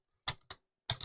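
Three crisp clicks of keys on a computer keyboard, close and quiet, tapped at an uneven pace against silence.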